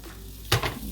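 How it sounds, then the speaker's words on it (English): Bacon strips dropped into a hot pan with no added oil, giving a sudden, loud, brief sizzling burst that flares and then settles into a quieter crackle. "when you hear that sizzle"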